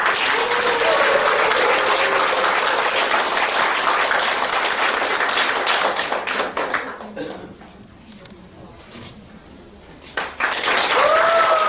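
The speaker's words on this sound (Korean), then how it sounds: "큰 박수를 좀 맞이해 주세요" Warm applause from an audience welcoming a poetry reciter at a book talk, loud dense clapping that fades to quiet with scattered claps, then swells again; a voice speaks briefly near the start.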